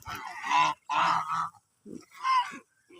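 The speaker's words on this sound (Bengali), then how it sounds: "আমার একটা হাঁস ছেলে হাঁস দেখেন কত বড় বড়" Large farm geese, including a big male, give loud, close, nasal honks in short bursts of two or three calls separated by brief pauses.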